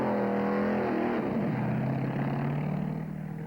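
Top fuel dragsters at a 1965 drag race: a loud, sustained engine roar with harmonic whine that drops in pitch as the car accelerates away, steady and close throughout.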